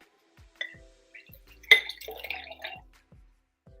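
Half a cup of cranberry juice is poured into a cup of coconut water, a short splashy pour of about a second with a glassy clink, framed by faint scattered drips and no talk.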